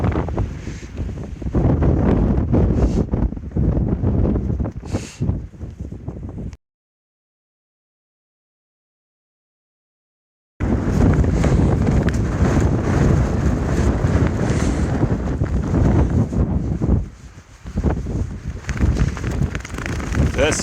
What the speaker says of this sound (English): I said it's windy.